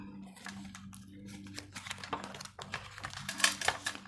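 A deck of tarot cards is shuffled close up, giving a rapid run of crisp clicks and riffling flutters that grow busier toward the end, with a low hum underneath.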